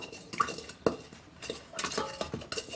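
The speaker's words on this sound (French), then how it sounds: "Mélange bien, mélange bien." A utensil stirs sugar and salt into lukewarm water in a bowl, producing scattered clinks and scrapes against the dish in an uneven rhythm, close and fairly quiet.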